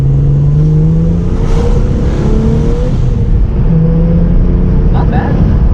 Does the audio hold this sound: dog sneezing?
no